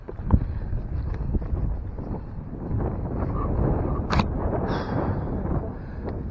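Wind gusts buffet the microphone outdoors at a fishing spot, a constant low rumbling roar with occasional knocks and a faint brief tone over it.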